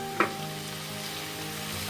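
Chicken soup base fries in a pan with salt and black pepper while it is stirred, a continuous close sizzle following one brief sharp scrape of the spoon near the start.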